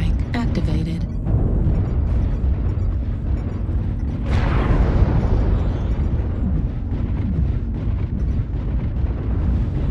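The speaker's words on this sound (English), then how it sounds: "Airstrike online. Airstrike activated." Airstrike explosions rumble through a MechWarrior Online match, a broad roaring blast swelling near the midpoint and decaying over several seconds amid dense, continuous battle noise and a voice.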